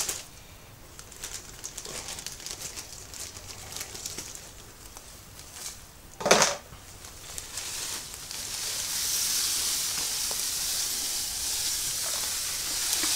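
Dry grain for a Black IPA pours into 16 litres of mash water, making a steady rushing hiss that builds and stays loud toward the end, with one sharp louder rattle midway.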